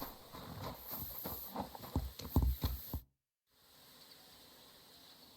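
Horse hooves in Kingdom Come Deliverance 2 clop at a walking pace for about three seconds, a few heavier thuds near the end, then the sound cuts to a quiet hum.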